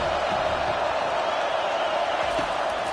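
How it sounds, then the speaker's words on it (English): Home stadium crowd roaring at a college football game as the defense tries to get off the field on third down, a steady, dense wash of many voices with no breaks, loud and continuous throughout. "Here comes his home crowd as the defense tries to get off the field on 3rd down."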